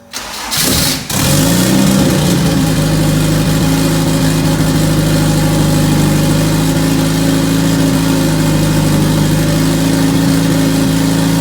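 A Honda CRX turbo engine cranks briefly, catches on its first start and settles into a steady, loud, even idle that drones on alone for about ten seconds.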